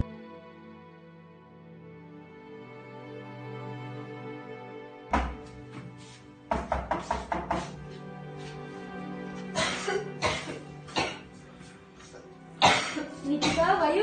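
A person coughs in repeated bursts after a quiet stretch, the harsh coughs growing more frequent toward the end.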